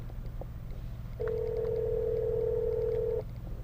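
A phone-call tone sounds inside a 2014 GMC Sierra All Terrain pickup, a single steady beep about two seconds long over a low cabin hum, with a few faint blips before it.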